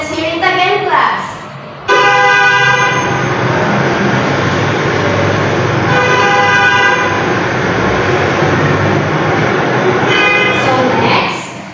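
A car horn blares in long, steady tones over a constant motor rumble, loud and close, pausing briefly near the start before sounding again for several seconds.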